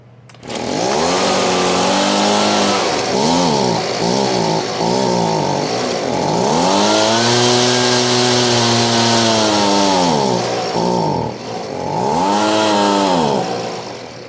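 A Husqvarna 125B handheld leaf blower, just fitted with a replacement coil, fires up at full choke and full throttle and runs loudly and unevenly, its two-stroke engine surging and dropping in pitch as a poorly adjusted carburetor makes it hunt.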